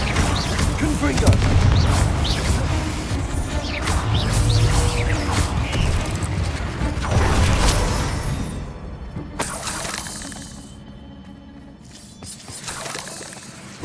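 Confringo blasting curse explosions in Hogwarts Legacy, several loud booming blasts with shattering crashes amid busy combat noise, easing into a quieter stretch near the end.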